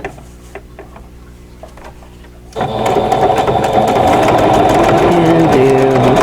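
After a few quiet clicks, a sewing machine starts up and runs steadily for several seconds, a loud close rapid mechanical chatter stitching a blanket stitch on Christmas cottage embroidery blocks, with no voices.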